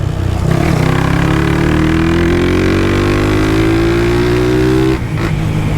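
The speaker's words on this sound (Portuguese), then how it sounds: "Tô acelerando desse jeito" A tuned Honda Twister motorcycle running on alcohol fuel revs loud and close, its engine note climbing steadily for about five seconds before dropping back briefly, with no talk.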